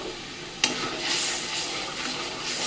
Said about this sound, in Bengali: এটা এবার ভালো করে কষাবো যতক্ষণ না মশলা থেকে তেল বেরোচ্ছে